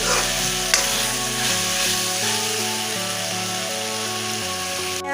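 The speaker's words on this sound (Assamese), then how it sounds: "অলপ ভাজিব" Duck meat frying in hot oil with spices in a home kitchen for a curry, giving a steady close sizzle throughout with no talk.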